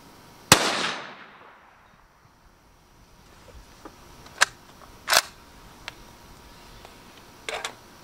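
Rifle shots fired at a steel plate 100 yards off: one loud crack with a long decaying echo, then several sharper, fainter reports spaced irregularly, with a last close pair near the end.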